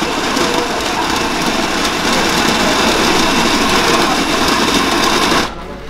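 A Kova digital coffee grinder grinds coffee beans for espresso, a loud, steady whirring motor drone with a gritty texture that runs for about five and a half seconds and then cuts off abruptly, with no one talking.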